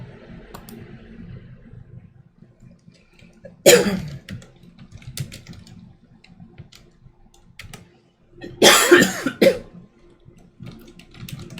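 Two separate bouts of close coughing, each a short harsh burst, stand out against a quiet background of faint clicking and computer keyboard typing.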